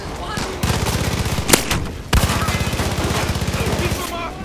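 Rapid automatic gunfire in Far Cry 5 rattles out in two long, close, loud bursts of evenly spaced shots, split by a sharp louder crack and a short gap in between.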